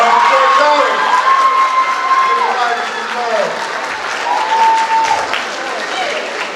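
An audience at an Alabama A&M academic scholarship awards program claps for the recipients, with some cheering and whoops. A speaker talks over the sustained applause.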